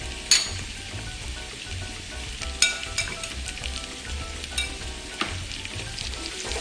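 A peri-peri sauce mixture for chicken mandi sizzles in a pan on a low flame, a continuous crackling hiss broken by repeated scraping stirs and occasional louder spits.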